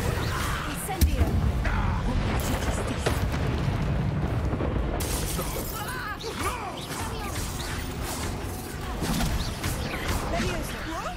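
Spell explosions and fiery blasts in Hogwarts Legacy combat, including the Incendio fire spell, heard as a continuous dense roar of booms and crashes with a voice speaking over the chaotic battle noise.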